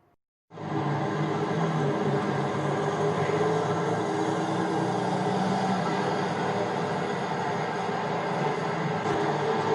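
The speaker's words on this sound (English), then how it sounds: "And the train goes up here on, it's the only mainline pier in the world." A train rumbles steadily along a pier on the Isle of Wight at moderate volume after a quiet start, a continuous rolling drone with no voices.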